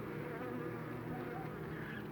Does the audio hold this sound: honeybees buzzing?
yes